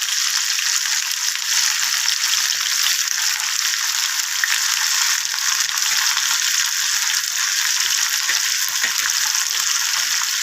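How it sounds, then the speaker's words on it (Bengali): Onions for a fish Mughlai paratha fry in hot oil with a steady, dense sizzle that stays loud and even throughout, with faint clicks and stirring underneath. "পেঁয়াজগুলো ভাজা হচ্ছে।"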